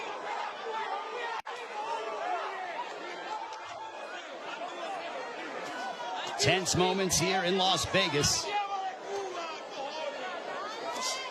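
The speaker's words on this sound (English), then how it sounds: "A very one-sided crowd, all in favor of Manny Pacquiao for the most part." A boxing crowd at the Pacquiao vs Ugas fight in Las Vegas murmurs steadily beneath a commentator's voice, with a brief surge of louder noise partway through.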